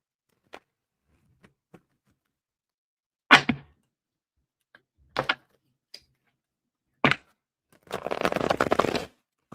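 Several sharp tarot card snaps and flicks sound in isolated bursts, ending in a longer riffling shuffle, close and clear against near silence.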